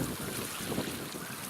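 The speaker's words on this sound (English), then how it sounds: "I'm just going to water these in" Water pours over freshly sown pea seeds in a container with no drainage holes, making a brief, steady rushing splash.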